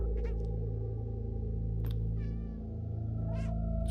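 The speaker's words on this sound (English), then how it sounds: "No, it's just meowing." A cat named Schnitzel meows several times, short distinct calls spaced across a few seconds, over a steady low hum of room noise with no talking.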